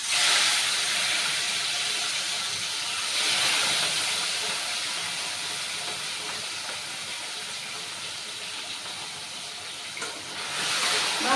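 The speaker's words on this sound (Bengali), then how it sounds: "আমি এখানে জাস্ট 2 পিস মাছ ভাজবো।" Two pieces of katla fish frying in hot oil give a steady, loud sizzling hiss that holds for several seconds, easing slightly midway and swelling again near the end.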